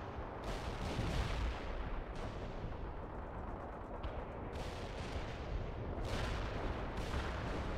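Artillery rocket barrages in the video game World in Conflict, a dense rumbling roar of repeated launches and blasts layered over one another for several seconds, loud and continuous with sharp bursts standing out, no voices.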